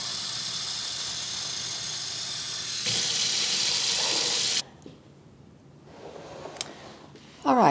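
Room-temperature tap water runs loudly into cooking pots for old beans, a steady broadband rush that stops midway, followed by quieter kitchen handling sounds and a brief splash at the end.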